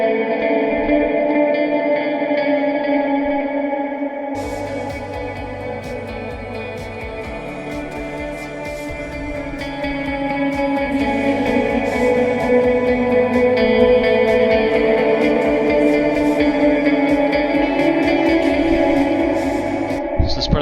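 An electric guitar runs through an ambient reverb patch on a Line 6 Helix, playing sustained, shimmering chords with a chorus-like wash and long reverb tails, swelling louder after a brief quieter opening.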